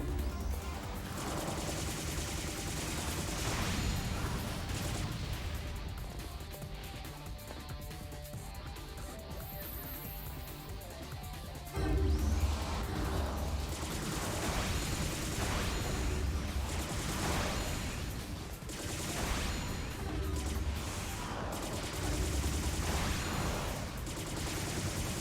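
Missile and gunfire barrages in the Capcom action game P.N.03, a dense run of repeated blasts and bursts with sharper explosive hits after the midpoint, all at a moderate level.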